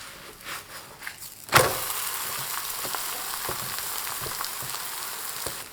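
Scallion egg pancake sizzles steadily in a hot pan, a sharp burst of frying noise leaping up partway through, then a continuous close crackle with small pops and scrapes.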